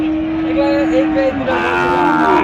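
A long, loud bovine moo, drawn out and then trailing off, rises from Sahiwal cattle at a busy cattle market, set against crowd noise and nearby voices.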